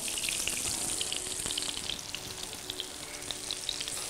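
Eggplant slices fry in oil over a low flame, giving a steady, soft, close crackling sizzle with faint bubbling throughout.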